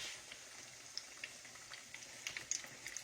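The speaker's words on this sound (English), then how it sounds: "Lay them in real gently and start frying." Fruit pies laid gently into hot reused grease in a home kitchen, frying with a steady soft sizzle and scattered small pops and crackles, moderately close, with no talk.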